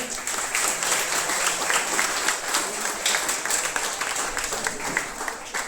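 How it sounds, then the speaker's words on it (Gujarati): Audience applause at an annual prize distribution ceremony held by a Mehfil in Variav, steady dense clapping from a sizeable crowd sustained at even loudness throughout, with no talk over it. "ખૂબ જોરદાર તાળીઓ પાડે."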